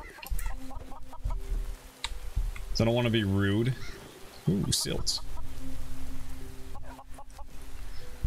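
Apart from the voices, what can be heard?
chicken clucking in the video game DawnCraft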